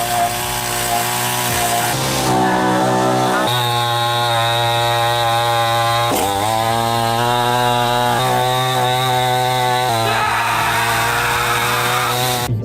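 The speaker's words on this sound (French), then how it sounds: "J'espère vraiment que les gars pourront sortir facilement avec une tronçonneuse." A chainsaw runs loud and close without pause, its engine revving up and settling back in several surges over a steady idle drone.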